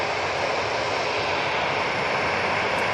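An airliner roars steadily as it departs Manchester Airport, a broad, loud, sustained rush of jet engine noise with no voices and no letup over a few seconds.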